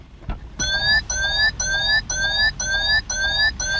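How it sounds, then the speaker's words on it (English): A 2021 Peugeot 2008's door-open warning chime, sounding in drive with the door open, repeats loudly in regular, evenly spaced bursts, a harsh two-tone pattern that keeps going without pause. "If you're in drive mode and you have the door open, you get this very annoying sound."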